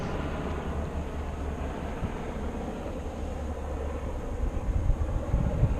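A Blackhawk helicopter flies over a wildfire near Middletown, California, a steady low rotor and engine rumble that holds throughout and swells slightly toward the end.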